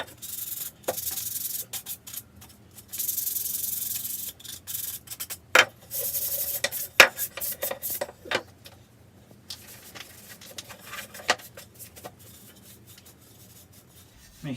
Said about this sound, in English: So you'll have to move that mark with a finer sandpaper.